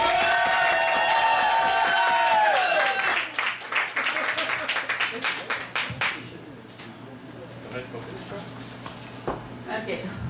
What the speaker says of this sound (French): Je veux des applaudissements, moi, quand j'invite du monde sur scène.